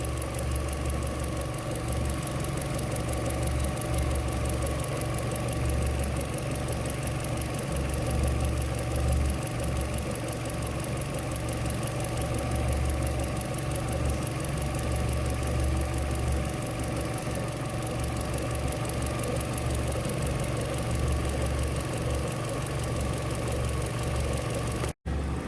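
A car engine idles at full operating temperature, a steady continuous mechanical hum with a faint ticking knock running evenly throughout, close and moderately loud with no talking.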